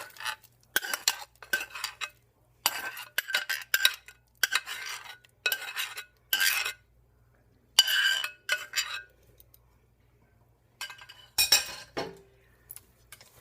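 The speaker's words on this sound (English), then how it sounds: "And give that a good stir." A spoon stirs corn and milk into cornbread batter, scraping and clinking against the bowl in short repeated bursts separated by quiet pauses.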